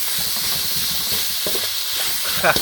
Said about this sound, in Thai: พัดให้หมูมันสุกก่อนครับ